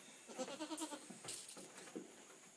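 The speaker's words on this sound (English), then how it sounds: "Billy Goat, chilling on the steps." A billy goat on porch steps gives a short, wavering bleat, fairly close and quiet, followed by a few soft rustles.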